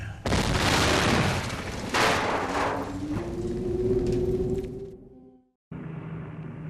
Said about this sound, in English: Another of the large airships exploded high.